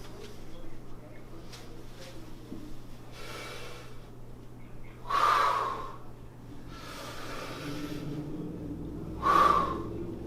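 Two strong, breathy exhalations come about four seconds apart during a hip warm-up exercise, each a short rush of air standing out over a quiet room hum.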